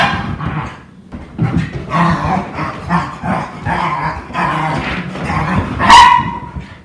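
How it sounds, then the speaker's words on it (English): A little puppy named Marty dashes around and growls in the background, his yips and grumbles coming in bursts of varying loudness with a sharper outburst near the end. "If you guys hear what sounds like the Tasmanian devil running around in the background, it is my little puppy, Marty."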